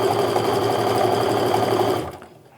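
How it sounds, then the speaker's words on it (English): A sewing machine runs steadily as it stitches a quarter-inch seam along quilting fabric strips, a loud, close, even mechanical whir that stops abruptly near the end. "you're just going to sew a 1/4 inch seam down the side"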